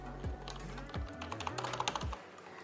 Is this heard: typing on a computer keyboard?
yes